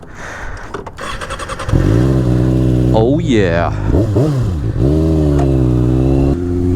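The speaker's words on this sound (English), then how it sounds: "I just love the way this motorcycle sounds." A motorcycle engine idles, then revs sharply several times with rising and falling exhaust roars, loud and close; a voice briefly speaks over it.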